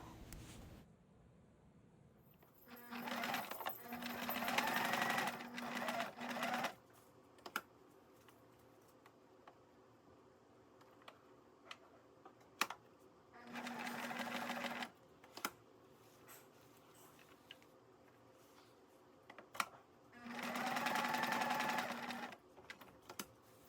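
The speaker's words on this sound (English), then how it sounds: "when you sew these pieces of felt on, you're just going to sew around all four sides of each square of felt" A sewing machine stitches felt squares onto a sensory blanket in three separate bursts of rapid, steady whirring, each lasting a few seconds, with quiet pauses and small clicks between runs.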